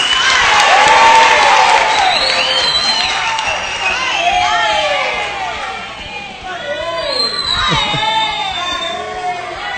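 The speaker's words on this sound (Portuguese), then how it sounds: "Oba, mais palmas!" An audience at a night podcast session at a youth camp applauds and cheers, with whoops and excited shouting over steady clapping, loud and close throughout.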